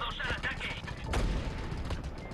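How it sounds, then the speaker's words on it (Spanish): A revolver fires in Just Cause 2 in sharp, loud shots within a couple of seconds, with one strong blast near the middle over dense game noise. "Un tirito en la cabeza con el revólver, que es de las armas más potentes del juego"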